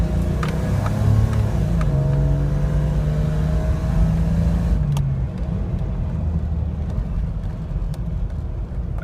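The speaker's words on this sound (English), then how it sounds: "Engine sounds great." An older Toyota Land Cruiser engine hums steadily from inside the moving vehicle, a low droning tone that shifts pitch once as it changes gear, with road noise underneath.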